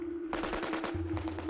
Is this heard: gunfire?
yes